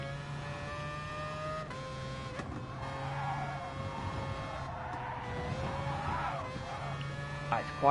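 A car in a PS4 racing game drones through a corner with a steady engine tone, its pitch shifting as it slides across the track, and a brief sharp rise at the very end.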